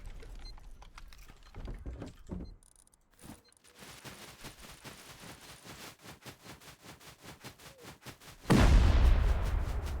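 Rapid rhythmic thudding gives way to a sudden loud explosion in the game Rust, a turret blowing up on a helicopter, whose heavy roar holds steady to the end.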